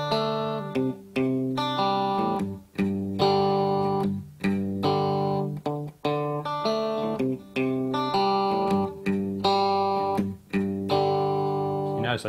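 An electric guitar slowly picks a riff, each note ringing with slight distortion in a steady repeating pattern, played alone and up close with no talking.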